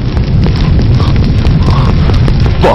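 A bomb explodes in a Telugu movie scene, giving a loud, sustained low rumbling boom with crackling debris and no speech.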